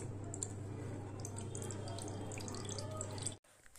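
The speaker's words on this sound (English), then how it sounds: "water from each hole is falling at same depth in all directions" Water streaming from holes in a container, a quiet continuous trickle with scattered drips and a low hum, cutting out abruptly near the end.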